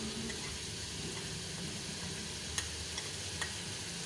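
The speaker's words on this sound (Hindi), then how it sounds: "हल्दी शामिल करके फिर इसको अच्छी तरह से मिक्स कर लें।" Turmeric is stirred into a sizzling dal tadka. A dense, steady frying hiss fills the background, and a couple of faint scrapes of the spoon come through near the end.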